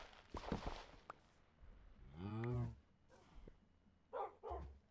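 A dog in a block-building video game lets out short barks and a rising whining yelp, with a few scattered clicks and footsteps. A quiet voice talks in between.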